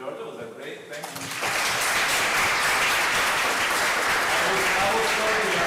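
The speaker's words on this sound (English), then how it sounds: "a big round of applause to Georgios" Applause from an audience at an academic lecture on securitization, starting softly and swelling after the first second into loud, sustained clapping that fills the room to the end.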